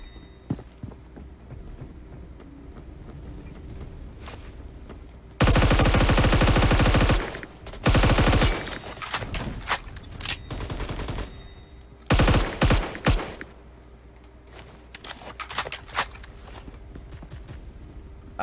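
Roblox Phantom Forces gunfire: a long, loud automatic burst, then several shorter bursts and single sharp shots scattered over the rest of the stretch, with quieter footsteps and game noise between them.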